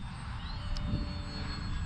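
Small electric Glastar V2 RC plane with flaperons, running on a 4S battery, droning steadily overhead in a continuous motor whine over a low rumble, fairly distant and even.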